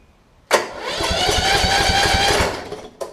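A Kohler Courage engine on a Toro Z5000 zero-turn mower, checked for intake valve clearance, cranks over with rapid rhythmic chugging for about two seconds, loud and close, then cuts out, followed by a short click.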